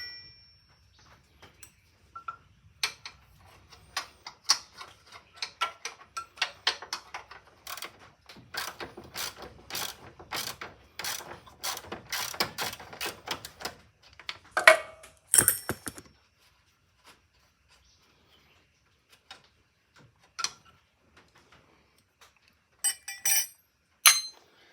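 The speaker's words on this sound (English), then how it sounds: "Loosen this top bolt." A wrench works a top bolt loose on a Huskie Haul Master UTV, rapid metallic ratcheting clicks in bursts, then sparse clinks and quiet gaps.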